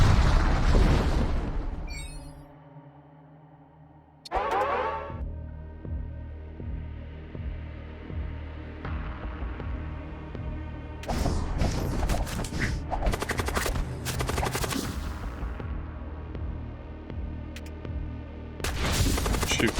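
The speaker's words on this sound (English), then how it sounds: "Ship missile, yeah." Ship missile explosions in the space combat game Void War, a loud volley of booms and crackling blasts that comes in repeated bursts after a brief quiet gap, with a steady hum and rumble underneath.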